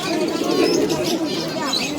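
Caged pigeons at the Uluberia market coo softly close by, a low rolling burble with a few light chirps, while a person talks over them.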